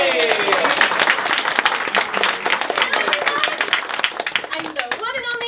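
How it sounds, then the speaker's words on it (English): An audience at a public library children's show claps and cheers for a costumed performer, dense continuous applause filling the room with scattered whoops, no talking over it. "let's hear some applause for Miss Molly McFolly"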